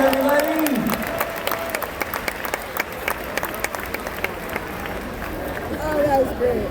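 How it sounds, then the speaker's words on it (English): Crowd applause from the stands at a SeaWorld Orlando orca show, steady clapping for audience volunteers throughout, with a presenter's voice over it. "how about a huge round of applause for our volunteers today?"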